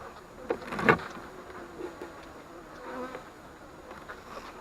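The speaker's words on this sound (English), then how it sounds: "Alright, we have a lot of bees." Dense buzzing of many honeybees around an opened hive during an October inspection in New Hampshire, a steady swarm drone with one louder bee passing close near the start, no talking.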